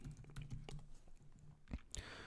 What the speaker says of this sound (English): So I'm just going to type in privacy policy.